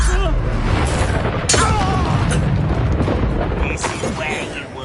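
Confringo blasting curse in the Hogwarts Legacy video game, a loud booming explosion with crackling bursts and debris, overlapping other spell blasts in continuous dense battle noise.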